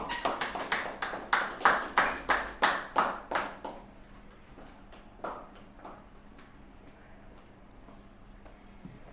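Audience applause welcoming a speaker to an event, a burst of loud rhythmic hand clapping that fades after a few seconds into scattered, softer claps.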